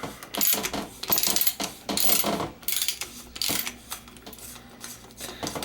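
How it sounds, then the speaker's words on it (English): A sealed cartridge bottom bracket on a bicycle being unscrewed with a tool, giving a run of loud metallic ratcheting clicks and grinding scrapes in uneven bursts, close up and with no talk. "So there, and then I'll go ahead and unscrew it."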